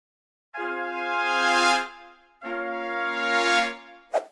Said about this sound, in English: I added this brass crescendo